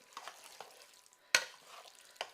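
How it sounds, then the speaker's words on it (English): A spoon stirs creamy chicken penne pasta in a pan, giving soft wet scrapes and squelches with one sharp clack of the utensil against the pan and a few quieter knocks. "we're going to stir this together"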